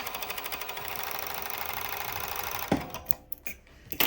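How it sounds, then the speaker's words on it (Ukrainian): A five-thread overlock sewing machine stitches a test seam after its looper thread tension is adjusted, running in a fast, even mechanical patter for under three seconds, then stopping into scattered clicks and handling noises, close up with no voices. "робимо пробний шовчик."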